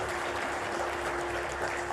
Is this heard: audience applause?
yes